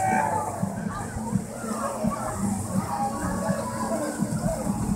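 A water ride at LEGOLAND California splashes down somewhere off in the distance, a dull rushing slosh under a crowd's chatter and a nearby voice talking.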